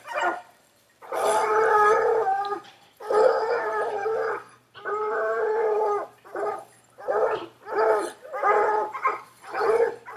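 Coonhound pups bay at a treed raccoon in a series of drawn-out, howling bawls and shorter barks, loud and close, with a few gaps between calls.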